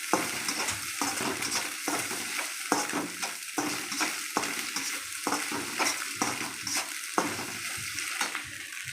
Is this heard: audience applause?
no